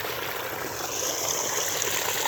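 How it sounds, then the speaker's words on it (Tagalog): Water draining steadily from a flooded rice paddy after a three-day soak, a continuous close trickling and gushing hiss with no talk. "Nagbawas tayo ng tubig"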